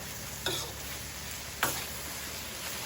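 Mama instant noodles stir-fried in a hot pan, a steady sizzle with two sharp scrapes or stirs of a utensil against the pan, close and alone without talk.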